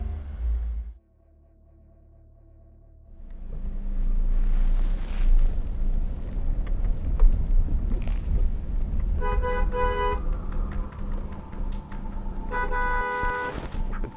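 A vehicle horn sounds out in farm fields, with two bursts of honking over steady wind noise and a low rumble after a brief quieter stretch.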